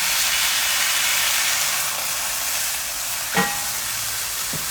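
Lamb mince smash burgers being pressed flat on a hot surface give off a steady, loud hiss and sizzle, with a brief scrape of a utensil near the end.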